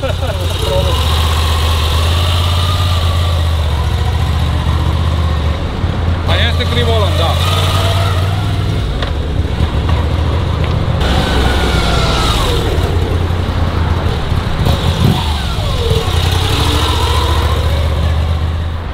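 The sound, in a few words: Moto Guzzi V-twin motorcycle engine idling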